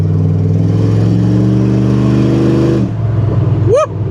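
A Dodge truck's engine revs loud and close while driving, holding a steady drone before the throttle drops away near the end. A short rising whistle-like tone follows.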